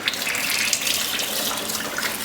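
Tap water runs steadily over blanched tomatoes in a colander, a close, continuous splashing gush with no voices.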